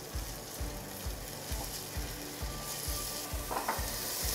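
Garlic and broccoli sautéing in a pan for rice with salt cod, a steady close sizzle and crackle with rhythmic stirring scrapes repeating about every half second, no voices.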